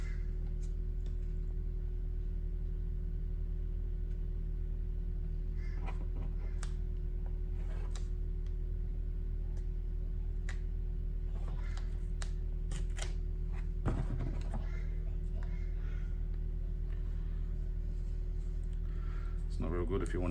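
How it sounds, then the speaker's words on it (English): A steady, low generator hum from a building site next door drones constantly in the background. Scattered light ticks and clicks sound close by, and a person talks at times over the hum. "Got a building site next door and they're running a generator"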